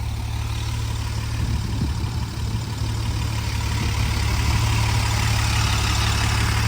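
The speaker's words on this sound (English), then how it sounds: "And the motor idles nicely." A 1971 Mercedes 280 SL pagoda's engine idles smoothly and steadily, a close, continuous low rumble with no voices over it.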